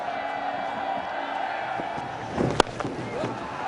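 Stadium crowd at a Bangladesh versus South Africa one-day cricket match, a distant sustained roar of cheering for a boundary beneath a commentator's voice, with one sharp thump near the end.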